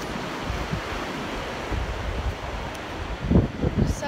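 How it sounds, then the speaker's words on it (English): Ocean surf and wind at a beach along a point, a steady washing hiss with gusty buffeting on the microphone and a few louder surges near the end. "And there's the ocean."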